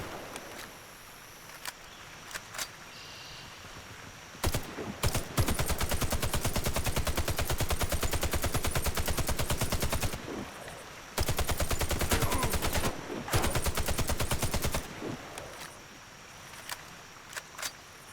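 Gunfire in the shooter game Warface: two long bursts of rapid automatic fire, from about 5 to 10 s and 11 to 15 s, with bullets whistling past. Sparse shots and quieter ambience fill the gaps on either side.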